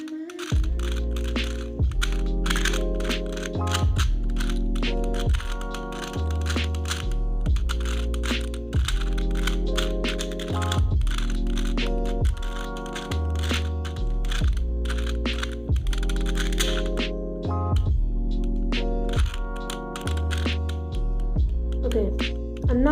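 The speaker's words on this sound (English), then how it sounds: "So, let's mix up the cube." A 2x2 Rubik's Cube being scrambled by hand, a rapid run of plastic clicks and clacks in repeated bursts under a steady hum, close and continuous.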